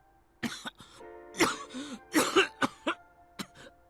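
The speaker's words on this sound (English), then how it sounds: "coughing painfully with strained breaths" Several harsh, painful coughs from a Hakuoki video game character come in irregular bursts with strained, wheezing breaths between them, close and fairly quiet.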